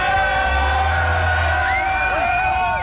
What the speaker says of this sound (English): Oh, it's a big crowd.